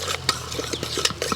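Spoon stirring milk powder into a chocolate mixture in a pot, giving soft repeated scraping strokes with faint clinks, close and steady, with no talk.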